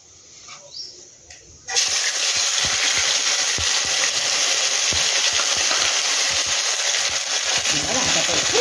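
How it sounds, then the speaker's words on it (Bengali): Ginger paste frying in oil with dried red chilies and bay leaves, a quiet start then a sudden loud, dense sizzle that holds steady, with stirring clicks and low voices beneath. "এবার আদাটা একটু ভেজে নেব।"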